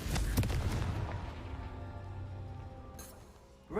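Confringo explosive spell cast in a video game, a booming blast at the start that rolls into a long fading rumble, with a fresh burst arriving just at the end.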